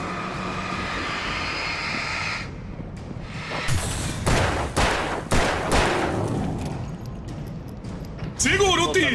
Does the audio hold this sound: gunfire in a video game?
yes